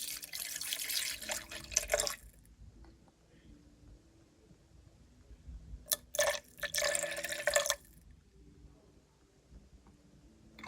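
Alcohol poured into a measuring cup for a fresh garlic tincture: two splashing, trickling pours, one about two seconds long and a second shorter burst, with quieter handling in between.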